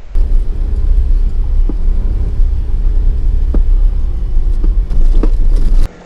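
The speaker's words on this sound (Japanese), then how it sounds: "まだまだ急勾配ですが安全運転でゆっくり登っていきます。" A kei camper van climbs slowly up a steep mountain pass road in Japan, its engine a steady low rumble close by and loud throughout, with a few faint knocks and rattles near the end.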